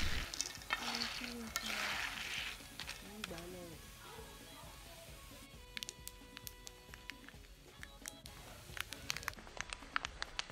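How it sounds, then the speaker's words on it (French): Palm kernels are stirred while frying in a pot to release their dark oil, with uneven scraping and clacking of the spoon over a faint sizzle, and a voice talks over the first part. "Continuez de remuer jusqu'à ce que les amandes libèrent totalement leur huile."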